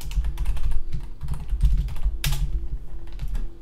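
A computer keyboard typed on rapidly at close range while coding, a dense run of clicky keystrokes over a low steady electrical hum, with no voices.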